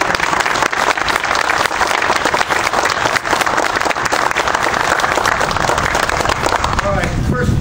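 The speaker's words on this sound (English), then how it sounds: "can we just have a round of applause for Pat Miner, Maggie Lara, Julie Impey, and" Sustained audience applause fills a veterans recognition ceremony, loud and steady throughout, with a few voices faintly mixed into the clapping crowd.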